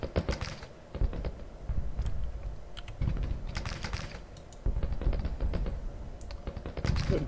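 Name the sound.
gunfire in the video game Grand Tactician: Civil War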